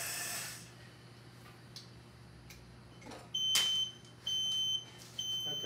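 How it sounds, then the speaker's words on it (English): A large animal ventilator's control box sounds its power-loss alarm, a loud electronic beeping in repeated bursts over a steady background hum, with no one talking. "if we lost power, the alarm would go off"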